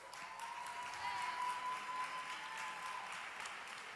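A gymnasium crowd at a festival show applauds the performers gathered on stage, a steady dense wash of clapping that holds evenly for the whole stretch, with a faint sustained tone running underneath.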